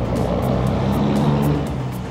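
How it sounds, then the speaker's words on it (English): Diesel trucks roll past on a street in Denver's RiNo Art District, a steady heavy engine rumble with low droning tones that holds at a constant level for the full stretch, with no talking. "Diesel trucks coming in hot."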